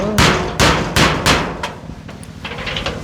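Four sharp, loud hammer blows drive a nail in quick succession, followed by a few lighter taps and faint knocks near the end.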